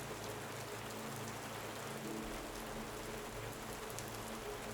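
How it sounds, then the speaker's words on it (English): Gentle rain falls steadily outdoors, making a soft, even hiss of drops that continues throughout, quiet and unbroken, with no voices. "let the gentle raindrops outside be the backdrop to your tranquil escape"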